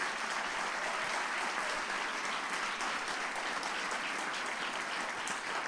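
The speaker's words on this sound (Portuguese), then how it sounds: "Vamos aplaudir Jesus pela vida do nosso pastor que se encontra aqui hoje" A church congregation at a Sunday celebration service claps continuously, a dense, even wash of applause holding steady throughout.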